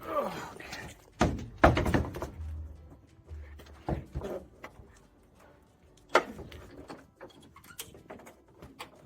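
A Suzuki Samurai door is worked on and shut several times, giving a series of hollow thunks and knocks spread through the clip, close by with quiet gaps between.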